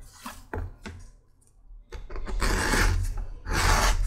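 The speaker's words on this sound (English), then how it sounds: "Now let's go ahead and bevel our edges." Edge beveler scraping along the edge of a leather guitar strap in short rasping strokes, a few brief passes at first, then longer, louder scrapes close by.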